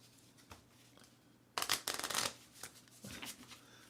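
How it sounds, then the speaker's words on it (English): Loose unsleeved playing cards are riffled together in a loud, crackling burst lasting under a second, followed by softer taps and a quieter second riffle. "Until I sleeve these cards, this is how I'm going to shuffle them."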